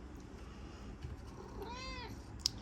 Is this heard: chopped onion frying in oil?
no